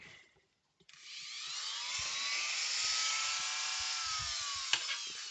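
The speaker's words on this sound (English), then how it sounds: "it's Dremel time" A Dremel rotary tool grinds steadily on an NES console case being modded, starting after a brief pause and holding a loud, high whine for several seconds, with a few small knocks near the end.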